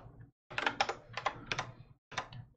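Fingers type on a computer keyboard in several quick bursts of close, crisp key clicks separated by short pauses.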